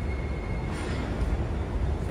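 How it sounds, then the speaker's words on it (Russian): A Paris metro train runs through a station with tracks in both directions down the middle, giving a continuous rumbling, rattling rail noise at close range with no voices. "Отличие, что здесь поезда в обе стороны идут посередине."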